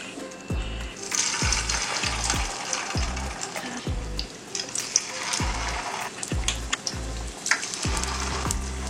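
Potato pieces fry in hot oil, a steady sizzle with bubbling, overlaid by a series of low regular thumps like a spoon or utensil tapping, no voices.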